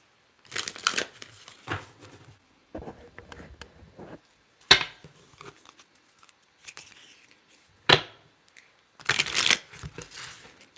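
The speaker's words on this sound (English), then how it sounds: "So let's shuffle and see." Crisp bursts of tarot cards being shuffled, several quick riffles and snaps separated by pauses, close up with no talking.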